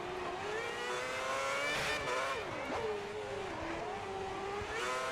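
F1 race car engines in the F1 2010 video game, run on extreme wet tyres on a dry track, whine at high revs, rising and falling through gear changes as cars duel closely, with a faint tyre squeal.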